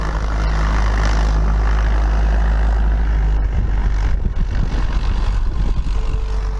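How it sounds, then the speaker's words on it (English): A 1973 Acrostar aerobatic propeller airplane flies close by, its engine a loud, steady drone that holds throughout with a slight shift in tone toward the end, with no voices. "airplane is the last Acrostar, built 1973 to the design of Arnold Wagner."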